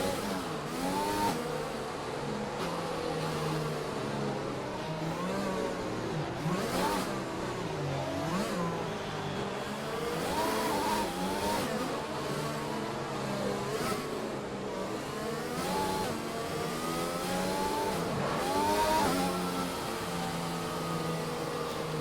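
An F1 2020 race car screams through the Singapore street circuit in the video game, engine revving up and down through repeated gear shifts, loud and continuous with no talk.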